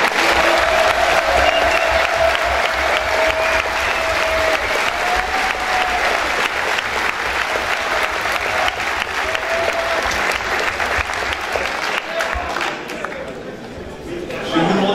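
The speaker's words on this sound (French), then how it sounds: "Je vous demande d'applaudir Alexandra Kravzik" Sustained applause from an audience fills the whole stretch, steady and dense, with crowd murmur mixed in and a slight easing near the end.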